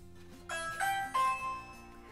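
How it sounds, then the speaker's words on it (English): A Ring video doorbell chime sounds indoors, a clear electronic ding-dong of sustained bell-like tones, two distinct strikes ringing out close and fairly loud, alone without talk. "they test every Ring bell"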